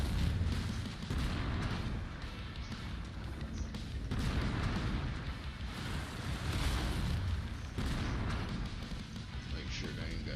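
Mech weapons in MechWarrior 5 firing in repeated heavy booming bursts with rumbling explosions, loud and dense throughout a combat mission.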